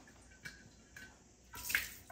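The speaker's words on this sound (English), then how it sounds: "So I just want to make sure that I rinse the alcohol away really well." Water rinses out a glass jar just sanitized with alcohol, quiet splashing and pouring swelling near the end after a few soft clinks.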